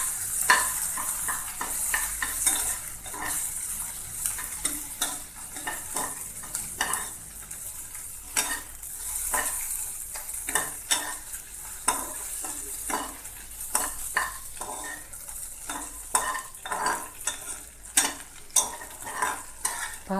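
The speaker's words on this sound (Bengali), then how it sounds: "এবার দিয়ে দিচ্ছি ধনে পাতা কুচি, হালকা ভেজে নিব সবগুলো।" Chopped coriander leaves lightly frying in a pan for a coriander-leaf bharta, with a soft steady sizzle under repeated scraping stir strokes and light clinks of a utensil against the pan, close and continuous.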